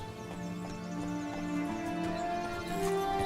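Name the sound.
horse Roach trotting, hooves, from video game The Witcher 3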